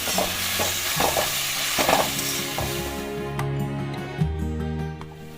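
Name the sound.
stirring chili and turmeric powder in oil for olive pickle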